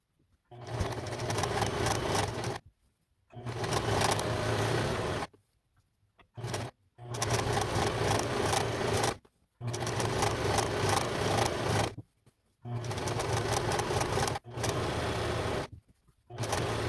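A sewing machine stitches around a skirt in repeated whirring runs of one to three seconds, with short silent pauses between them, close and steady.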